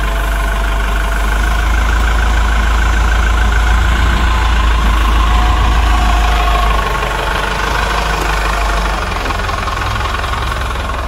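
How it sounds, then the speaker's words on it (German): Toyota Hilux camper truck with a crawler cabin, its engine running steadily and loud at close range as it drives down, a low rumble with a slight drop in level toward the end. "Alex, du fährst da mit dem Auto runter?"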